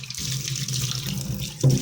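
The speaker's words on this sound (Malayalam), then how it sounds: "ഇതിൻ്റെ വെള്ളം നല്ല തെളിഞ്ഞ വെള്ളം വരുന്ന വരെ നമുക്കിത് കഴുകിയെടുക്കാം" Running tap water pours over kitchen vessels that are being rinsed clean. The flow stays steady and close, then turns into a louder, fuller splash near the end.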